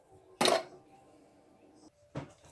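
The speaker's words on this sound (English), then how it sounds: "I like to take my basic bamboo spoon for mixing." Bamboo spoon stirring tortilla dough ingredients of flour, baking powder and salt in a bowl, two sharp clattering knocks about two seconds apart over a faint background, with no talk.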